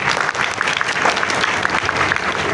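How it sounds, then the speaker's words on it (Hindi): Loud, steady applause from a classroom audience during a Python programming revision session, dense clapping filling the whole moment without pause. "बेहतरीन है, तालियां वही जोरदार।"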